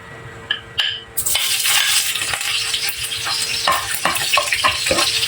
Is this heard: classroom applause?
no